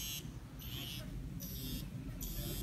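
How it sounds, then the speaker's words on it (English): A Yoho smart band vibrates in four short, regular buzzing pulses with brief gaps between them, faint and close over steady background noise. "here we have some vibration on the smart band"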